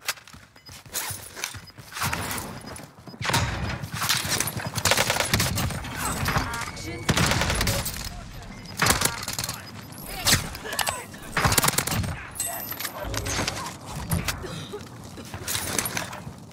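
Gunfire in Call of Duty, sniper-support gameplay with a zero-recoil Milano: dense, rapid bursts of automatic fire and shots that run almost continuously, loud and close, with game mechanisms, movement sounds and voices talking over them.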